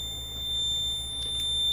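Fire alarm sounding during a test of a newly installed Notifier NFS2-3030 system in a school, a steady electronic tone heard faintly and continuously under low background noise.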